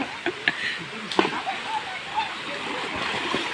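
Clear stream water flows over stones and fallen leaves at a hidden forest spot in the rainy season, a steady close rush with small splashes. Voices are faintly present.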